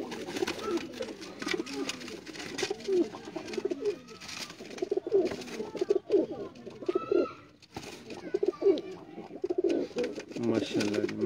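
Pigeons coo continuously in a dense, layered chorus close by, with a voice speaking intermittently over the birds.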